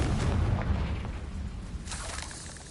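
An explosive Confringo spell goes off in the video game Hogwarts Legacy, a loud booming blast with a deep rumble that fades over a couple of seconds.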